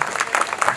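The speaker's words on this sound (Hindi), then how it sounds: "एक बार ज़ोर से ताली बजा दो एक बार" Audience applause breaks out at a stage event for children and their relatives, a short burst of dense clapping that is moderately loud and close, with no speech over it.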